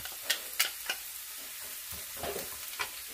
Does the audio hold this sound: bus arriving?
no